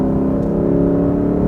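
Lexus RC F in Sports Plus mode gives a steady, loud exhaust drone with a strong low engine hum, close by and alone, with no voices.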